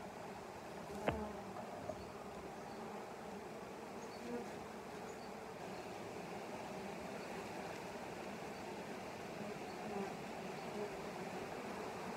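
Honey bees buzzing around beehives during a varroa mite count, a steady dense drone of many wings, close and constant, with a single faint click early on and no talk.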